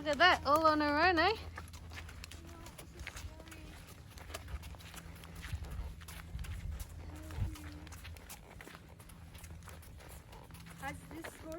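Horse hooves clip-clop on a mountain trail ride in Dajti Mountain Nature Park near Tirana, Albania, a steady uneven patter of moderate steps under near, ongoing conversation.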